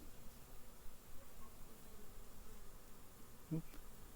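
Honeybees buzz in a steady, faint, continuous drone at an apiary outdoors, a diffuse hum with no distinct individual passes and no voices.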